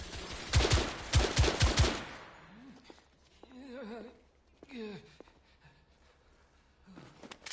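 Gunfire in The Order 1886, a loud cluster of close shots fired in quick succession for about two seconds, then quieter stretches where voices speak and groan.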